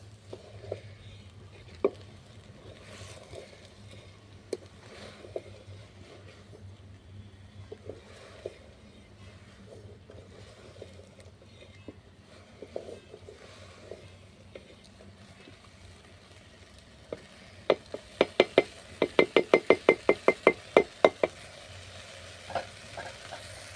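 Rice and chana dal fry in oil in a pan, a soft sizzle with scattered stirring knocks that turn into a quick burst of scraping strokes near the end.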